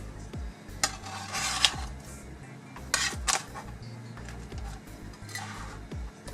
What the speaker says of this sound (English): Just gonna flip them over one by one and then put them back in again.